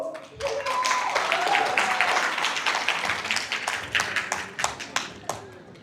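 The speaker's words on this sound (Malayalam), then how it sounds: "ഒരു നല്ല കയ്യടി കൊടുക്കൂ" Audience at a 25th-year engineering college reunion breaking into hearty clapping and applause, dense at first then thinning into scattered claps, with voices mixed in.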